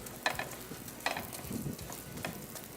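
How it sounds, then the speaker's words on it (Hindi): A paratha frying in a small amount of light oil over high heat, with a soft, steady sizzle broken by a few brief stirring or scraping knocks; no talking. "हल्का लाइट ऑयल थोड़ा सा इस्तेमाल किया, और इसको फ्राई करते गए बस।"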